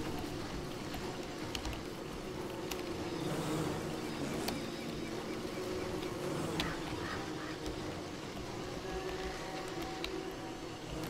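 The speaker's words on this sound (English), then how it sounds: "the killer bees have started attacking the mechanical horse, or the knight, as it were" Killer bees swarming in the video game Don't Starve while attacking a mechanical knight, a continuous droning buzz mixed with game sounds, steady and moderately loud throughout.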